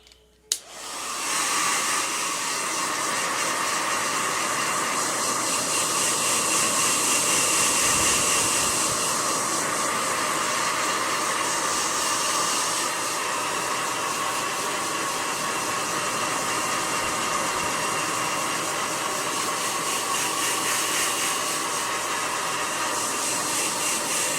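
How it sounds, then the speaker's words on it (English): A hair dryer switches on with a click and blows in a loud, steady whooshing roar close by, continuing unbroken throughout. "use the blow dryer to take care of any loose hair and dry you off"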